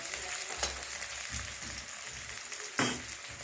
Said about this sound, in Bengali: এবার পেঁয়াজটা আমি ভাজছি।